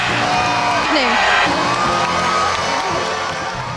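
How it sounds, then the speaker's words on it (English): A dense crowd roars and cheers in Times Square on New Year's Eve, welcoming 1988: a loud, continuous wall of shouts and whoops that stays steady throughout. "I don't know if you can even hear me above the roar of the crowds here in Times Square"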